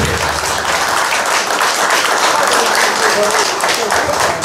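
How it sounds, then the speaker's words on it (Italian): An audience at a civic ceremony in Casarano applauds a Guardia di Finanza brigadier, steady dense clapping at full volume throughout, with faint voices underneath. "Perché non si applaude il brigadiere?"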